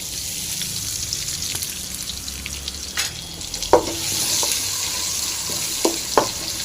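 Crushed onion dropped into hot oil already tempered with cumin and urad dal, a steady close sizzle with a few sharp pops and clinks of stirring.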